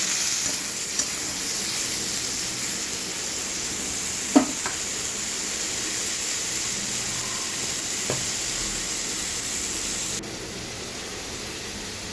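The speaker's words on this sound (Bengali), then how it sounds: "প্রথমে ঝিঙেগুলোকে আমি লবণ দিয়ে তেলের মধ্যে একটু ফ্রাই করে নেবো হালকা ফ্রাই করব" Ridge gourd lightly frying with salt in oil, a steady bright sizzle throughout, with a couple of small clinks from stirring and a drop in sizzle near the end.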